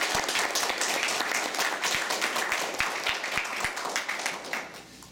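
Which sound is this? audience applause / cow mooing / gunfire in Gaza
audience applause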